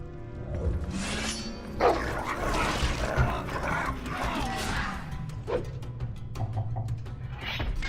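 Dog barking and lunging to attack in the Game of Thrones video game, a dense burst of growls and barks over busy combat noise, with a sharp impact around the middle and faint talk in the background.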